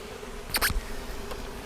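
A swarm of bees hums steadily, and a single insect buzzes close past midway through. No one speaks.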